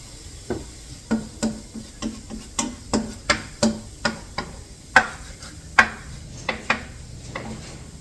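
A roux for gumbo is stirred in a pan, a series of about a dozen sharp, evenly spaced scraping clicks of the utensil against the pan, close and distinct over a quiet background.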